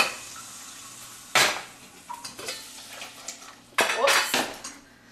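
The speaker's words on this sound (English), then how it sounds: "drain out the water from the potatoes and toss them into your bowl" Drained boiled potatoes tossed into a bowl with oil for an Indian potato curry, giving two loud clattering crashes of potatoes hitting the dish with smaller clinks between, close up, with a person talking now and then.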